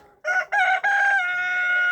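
Rooster crowing close by, three loud bursts in quick succession, the last stretched into a long sustained note, with no talk over it.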